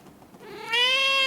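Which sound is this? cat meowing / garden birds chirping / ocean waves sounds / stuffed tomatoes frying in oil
cat meowing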